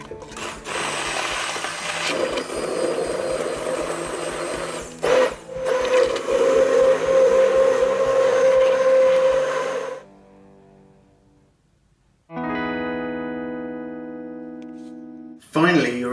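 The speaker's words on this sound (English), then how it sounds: "Cook for 2 or 3 minutes before blitzing up with a stick blender." A stick blender buzzes loudly and continuously for about ten seconds blitzing cooked tomatoes, briefly pausing midway, followed by quiet and then a sustained musical tone.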